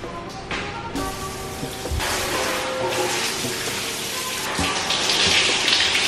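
Shower water sprays steadily onto military-issue gear, a continuous close hiss with occasional splashes and thumps as items shift under the stream.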